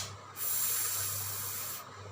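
A voice imitates air escaping from a hole in an inflatable floating fish toy, a single steady breathy hiss like a drawn-out F sound, close and moderately loud.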